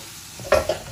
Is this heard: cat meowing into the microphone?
no